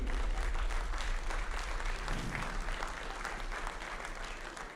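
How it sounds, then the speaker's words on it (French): An awards-ceremony audience at a Beaujolais excellence trophy event breaks into steady, full applause that fills the room at a loud, even level for the whole stretch, easing off slightly toward the end. "vous pouvez l'applaudir"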